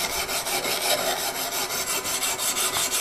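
A blade bevel is rubbed steadily on a whetstone in a timber-framing workshop, the gritty scraping strokes repeating evenly and close up, with no talking.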